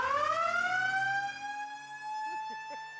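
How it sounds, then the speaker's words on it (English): The Husky horn blares after a University of Washington football score on game day, a loud sustained tonal blast that slowly rises in pitch and holds, with faint crowd noise beneath. "Here comes the Husky horn on a Husky score."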